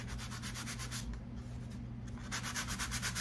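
A cheap sanding block rubs spackle smooth, making steady close back-and-forth scratchy strokes in a regular rhythm, with a brief pause midway and no speech.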